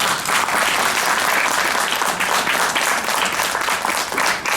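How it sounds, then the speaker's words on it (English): Dense, loud, sustained applause from an audience at a college Talanoa event for a speaker, filling the room evenly and continuing without a break. "let's give him another round of applause"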